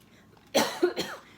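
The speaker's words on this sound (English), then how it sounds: "Sorry about the cough, guys." A single short, harsh cough, followed by a couple of smaller throaty hacks, heard close and alone in a quiet room.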